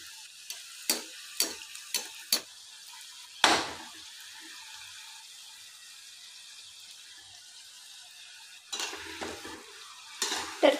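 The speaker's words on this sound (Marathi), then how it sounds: "मध्यम आचेवर यांना तळून घ्यायचं आहे, चांगलं क्रिस्पी होईपर्यंत तळायचं आहे" Potato balls deep-frying in oil over medium heat until crisp: a sequence of sharp spoon or utensil clinks and scrapes against the pan, then a long quiet stretch with only faint bubbling, and more stirring near the end.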